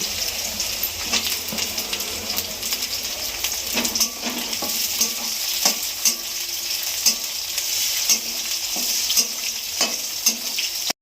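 Garlic paste and slit green chilies fry in a hot pan for a cabbage and fish-head dish, giving a steady close sizzle broken by repeated scraping knocks of a spatula stirring against the pan.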